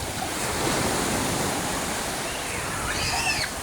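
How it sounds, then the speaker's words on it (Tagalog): Sea surf rolls in steadily at a crowded beach, a loud broad wash of breaking waves with wind on the microphone and faint distant voices of bathers underneath. "marami na pong tao dito sa dagat."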